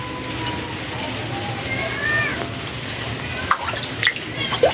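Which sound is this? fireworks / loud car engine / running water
running water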